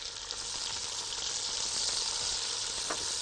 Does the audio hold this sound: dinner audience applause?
no